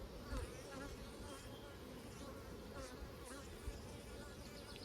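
Bees hum around a hive in a steady, close drone, with individual insects flitting past the mic now and then; no voices.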